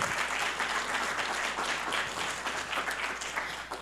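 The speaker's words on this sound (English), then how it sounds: "Let's give them a round of applause." An audience at a mayoral candidate forum in Albuquerque applauds, a dense, steady wash of many hands clapping at once that holds loud for several seconds before easing slightly at the end.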